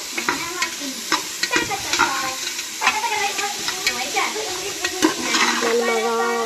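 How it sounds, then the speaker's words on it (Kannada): Tomatoes go into frying onions in a pan at home: a steady sizzle with frequent scraping, clattering stirs of a spoon against the pan, close and fairly quiet, with faint voices in the background. "ಈಗ ಈರುಳ್ಳಿ ಬೇಯಿತು, ಟೊಮೆಟೊ ಹಾಕ್ತಾ ಇದ್ದೀನಿ."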